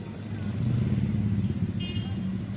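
Traffic at the busy Pasar Kemis four-way intersection in Tangerang, where motorbikes, minibuses, buses and heavy trucks mix into a low, steady engine rumble, with a brief higher toot near the end.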